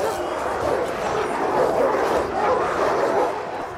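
Dogs barking and yipping in the Total War Arena battle game, a steady stream of overlapping barks under continuous battle noise, with a voice talking over it.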